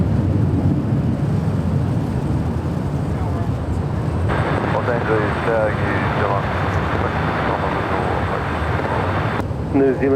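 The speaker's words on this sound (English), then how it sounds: "That right there is Southwest Airlines Flight 3033 heading to Las Vegas. It's a 737-800." A Southwest Airlines Boeing 737-800 at Los Angeles airport: a broad, steady jet roar that swells partway through, with engine whine rising over the rumble and a voice talking beneath it.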